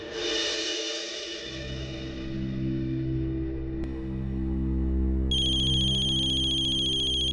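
A mobile phone ringtone rings steadily for several seconds, a sustained melodic electronic tone with bright layered harmonics, close and fairly loud, with no talking over it.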